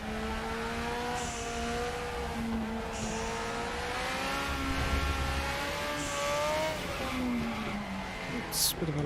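BMW race car in RaceRoom Racing Experience at TT Circuit Assen, its engine revving and shifting through gears with a rising and falling whine, loud and close, with tyre squeal near the end; a voice talks over it.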